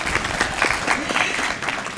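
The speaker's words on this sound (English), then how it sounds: "That's good, you can clap." Audience at a city State of the City address claps steadily for about two seconds, a dense even patter of many hands filling the hall.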